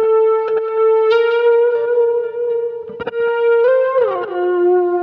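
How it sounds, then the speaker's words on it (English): Overdriven electric guitar from the natural crunch setting of a Boss GS-10, sustained chords ringing with a slight bend at the end, played alone with no talking. "The crunch guitar comes from the natural crunch setting"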